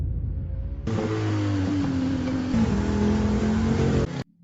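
A car is driven hard to cut off another vehicle, its engine roaring loud and close with rising and shifting revs, then cutting off abruptly.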